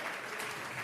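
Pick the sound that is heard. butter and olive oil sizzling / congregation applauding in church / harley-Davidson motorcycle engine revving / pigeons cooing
congregation applauding in church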